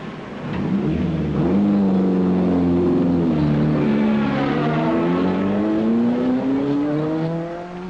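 A race car at the 1961 Le Mans 24 Hours passes close by, late in the race. The engine whines loudly, its pitch rising and then falling as it sweeps past, and it fades out at the end.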